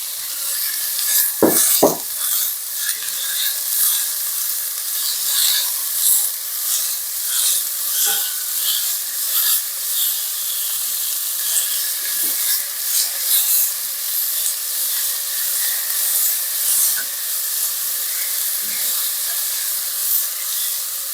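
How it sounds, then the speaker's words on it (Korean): Dried radish greens are stir-fried in a pan, giving a continuous bright sizzle and hiss with intermittent scraping and stirring clatter from a utensil, and no talk. "자, 이렇게 볶아줍니다."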